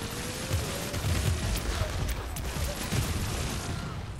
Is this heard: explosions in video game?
yes